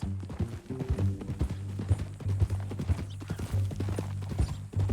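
Steady clip-clop of horse hooves at a walking pace in Red Dead Redemption 2, close and rhythmic, with a low rumbling tone underneath.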